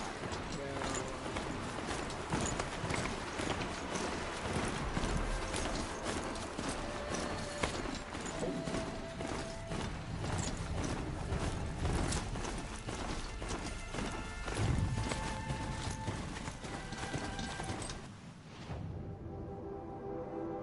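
Horse hooves clip-clopping steadily alongside a whinny in the video game Horizon Zero Dawn, dense and continuous over game music and ambience, with hoofbeats near and loud throughout.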